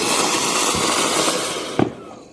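A Diwali firecracker goes off in a village, a sharp close bang with a quick double crack near the end, following a loud hissing, fizzing burn.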